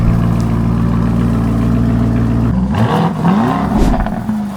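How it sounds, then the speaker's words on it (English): A Nissan Micra engine idles close by with a steady low hum, then the tone shifts midway into a brief rev with rising and falling pitch before settling, no voices present. "That there is Dubai's Nissan Micra."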